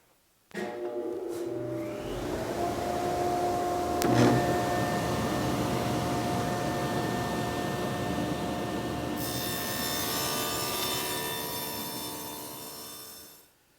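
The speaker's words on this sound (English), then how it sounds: "So all we're going to do now is cut those dados." A power saw cuts dados across wooden stock for a changing table, one continuous loud whining cut with a steady tonal hum that runs about twelve seconds and rises into a brighter, harsher whine near the end.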